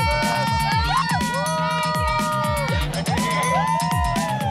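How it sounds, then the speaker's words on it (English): Crowds at Bondi Beach near a dance party, with dense cheering, whoops and shouting over a steady pounding dance beat with repeated kick drum hits and melodic synth lines. "Crowds arrive en masse, including thousands attending a dance party behind the beach."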